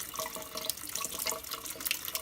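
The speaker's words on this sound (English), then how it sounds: "So rinse, rinse, rinse with tap water." Tap water runs steadily over sprouts being rinsed in a sink, a continuous splashing hiss that is moderately quiet and close, with no talking.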